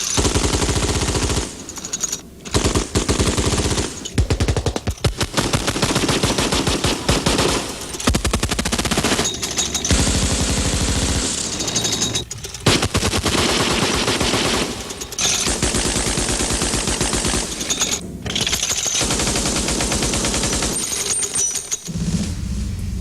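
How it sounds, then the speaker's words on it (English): Machine guns, six firing together on an oscillating mount, roar in long sustained bursts of rapid automatic fire, loud and dense, broken by brief pauses across the stretch. "6 guns firing in an oscillating mood like this would put out a horrendous field of fire"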